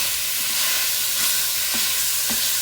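Ground beef frying in a pan while making Haitian-style macaroni gratinée, a loud steady sizzle close up with occasional faint scraping stirs and no talking.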